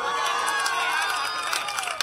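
A crowd cheers and applauds at the Hyderabad Olympic Games three-day competitions, a dense, continuous roar of clapping and shouts filling the whole stretch at steady loudness.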